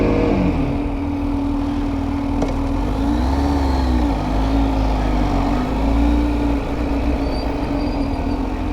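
A Kawasaki motorcycle idles and putters at low speed through a U-turn, its engine note a close, continuous drone that rises and falls slightly as the clutch is feathered, with no talk.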